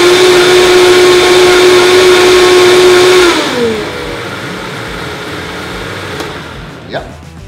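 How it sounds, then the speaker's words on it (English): A countertop blender whirs loudly, blending cinnamon almond butter pancake batter with a steady high-pitched motor whine for a few seconds, then winds down and spins to a stop, followed by a faint clunk. "Blend it for about 20 seconds."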